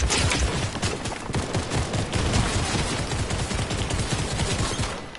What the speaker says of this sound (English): So now I'm getting beamed by the bots, and the bots are really good at hitting their shots all of a sudden.